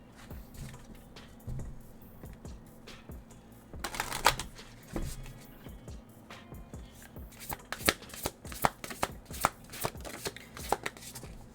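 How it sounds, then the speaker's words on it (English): Tarot cards being shuffled by hand, a run of crisp riffling and slapping bursts that grow denser toward the end, close and fairly quiet with no talking. "These cards, sometimes they're just a pain in the ass to shuffle when they don't."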